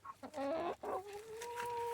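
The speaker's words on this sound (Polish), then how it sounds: "co one tak się tutaj dyskutują, coś tłumaczą, taki dziwnie, dziwnie gdaczą" Hens cluck and squawk in a backyard garden coop, a close, loud run of rising and falling calls, with one drawn-out, steady note held toward the end.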